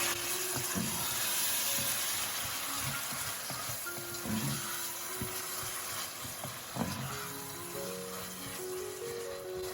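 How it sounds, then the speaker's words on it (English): Soaked split peas drain with their water in a kitchen, a steady splashing, trickling wash with faint clinks and scrapes, close and moderately quiet, no talk. "I will drain my split peas and put them inside"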